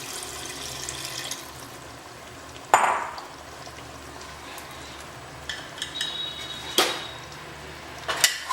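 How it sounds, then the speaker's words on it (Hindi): Broth poured into a pan of palak chicken curry with yogurt, a soft continuous simmering hiss broken by several sharp splashes and utensil clinks against the pan. "दही के साथ ही हम इसमें शोरबा छोड़ रहे हैं जितना हमें चाहिए।"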